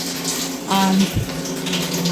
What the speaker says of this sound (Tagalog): Ayan, refill muna natin ang tubig niya.